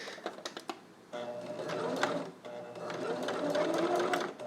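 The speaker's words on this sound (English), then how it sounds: "I'm bar tacking this seam a lot because it's going to be the bottom of the neck" Sewing machine bar tacking a seam at the bottom of the neck of a fabric Spider-Man mask, with a few quick stitch taps at first, then a steady close whirring run of stitching.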